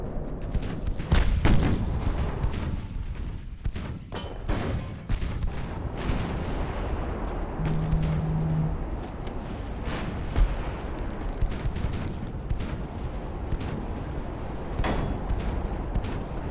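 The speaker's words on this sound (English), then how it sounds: "we just got a big explosion ammo detonation hit by a 2-inch gun" Naval battle in Ultimate Admiral Dreadnoughts, 1895 Russia versus Britain: repeated booming gunfire and heavy explosions, including an ammunition detonation, over a continuous loud rumbling roar.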